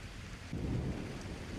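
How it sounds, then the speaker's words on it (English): Steady rain falls while a low roll of thunder swells and lingers, soft and distant-sounding, with no speech. "the type who gets afraid of a little bit of thunder"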